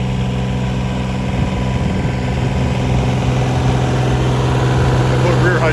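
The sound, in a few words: old Kubota tractor engine running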